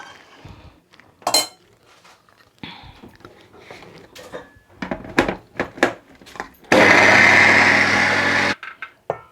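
An old 26-year-old mixer grinder grinding sesame seeds for ellu paagu, a loud sustained whirring burst of about two seconds after scattered clinks and knocks of jar and utensils.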